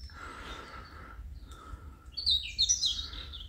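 Birds chirp and sing in quiet countryside in the Basque area near Bidache, with a few faint calls and then a brighter burst of high trills over a low background rumble.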